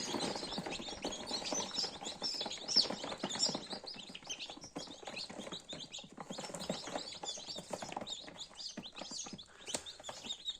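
Newly hatched chicken chicks chirp and peep continuously, a busy overlapping chorus of high tweets, close by and fairly soft, with no talking.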